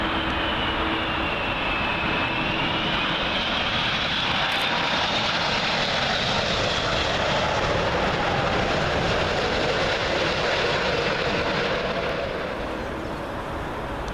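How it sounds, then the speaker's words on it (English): Airbus A380 arriving from Dubai and landing at Heathrow, a loud sustained engine roar with a rising and falling whine that swells mid-pass, then eases slightly near the end. "A380 coming in from Dubai"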